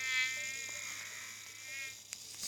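A thin, high-pitched buzzing drones steadily like a fly or mosquito, fairly quiet, with a couple of faint clicks near the end, from the video game Plague Inc.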